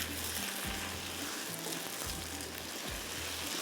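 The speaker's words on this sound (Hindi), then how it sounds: "अब ये स्लो फ्लेम पे आराम से इसकी बड़ी अच्छे से भुनाई हो जाएगी" Gola kabab mixture with sugar frying slowly over a low flame, giving a steady, close sizzle with soft stirring scrapes and no voices.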